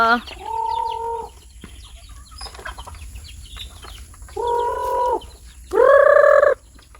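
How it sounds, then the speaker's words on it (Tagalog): Several loud, harmonic chicken calls on a farm come in separate bursts, close by, with a gap of quieter rustling between them. "daming manok"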